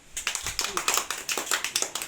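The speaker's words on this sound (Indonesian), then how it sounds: "Mantap, tepuk tangan." A classroom group of students claps together after a group presents its short story, giving a brief burst of quick, uneven hand claps at moderate loudness with no talking.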